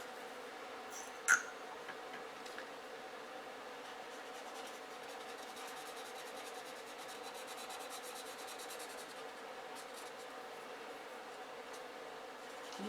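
Soft, steady rubbing of solvent-dampened blending tool over a colored pencil drawing on paper, a faint continuous scratchy friction with a single small tap near the start.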